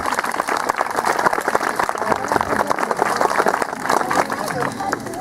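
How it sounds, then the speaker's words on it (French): Audience applause at a medieval-festival tiger show in Pierrefonds, featuring a Bengal–Siberian tigress: dense, steady clapping from a crowd that holds for the whole stretch, fairly close and loud, with a few voices mixed in. "l'applaudir peut-être, ça va la motiver."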